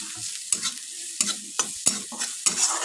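Cabbage and carrot stuffing for veg momo sizzles in a pan while a utensil stirs it, leaving repeated close scraping strokes over a soft continuous fry.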